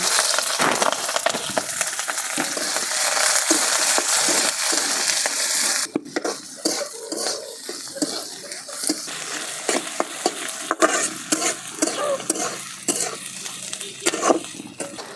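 Bay leaf, cardamom, cinnamon, whole cumin, onion and green chili frying on a village clay stove, a steady close sizzle with frequent spoon scrapes and stirring knocks throughout.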